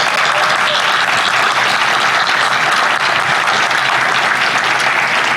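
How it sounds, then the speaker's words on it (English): Law school graduates and guests at a spring commencement ceremony give sustained, loud, dense applause, a continuous roar of many hands clapping at once with no speech over it. "give yourself a round of applause"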